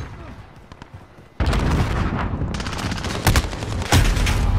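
Heavy gunfire in the Modern Warfare 2019 multiplayer game, with bursts of rapid automatic shots and booming impacts erupting after a quieter start, loud and close, with a player's voice in the background.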